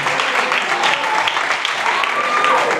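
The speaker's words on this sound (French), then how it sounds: "que je vous demande d'applaudir" Audience applauding and cheering a dance crew, the KLF Crew, at an urban dance competition, steady broadband clapping throughout with voices mixed in.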